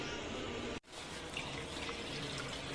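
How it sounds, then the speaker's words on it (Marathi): Cold water pours steadily from a tap into a cooking pot in a home kitchen, a continuous close rushing stream that cuts off briefly once, then resumes and runs on alone. "हे बघा आपण आता दुसरा थंड पाणी टाकायला घेतला याच्यामध्ये"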